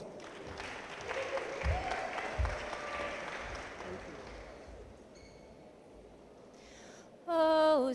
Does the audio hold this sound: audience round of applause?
yes